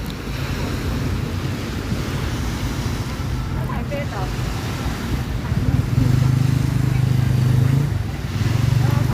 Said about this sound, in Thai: ฟังเสียงคลื่นไปนะครับ แล้วก็ชมภาพกันไปนะครับ นะครับ เสียงคลื่นซัดสาดนะครับ